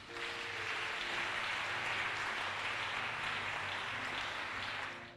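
A church congregation applauds Jesus, a dense, sustained clapping that swells quickly and holds steady for several seconds before tapering off, with no voices over it.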